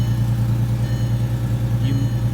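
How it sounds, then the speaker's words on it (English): A VW R32 MKIV runs just after a cold start, its engine and exhaust settling into a steady, low idle rumble, close and even, with a brief faint higher sound near the end. "You might be hearing already the sound of the exhaust"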